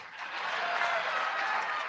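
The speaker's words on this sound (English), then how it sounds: "And they cheer." An audience at a table event cheers and applauds in a dense, continuous wash of clapping that swells slightly and holds steady, crowd-sized and fairly close.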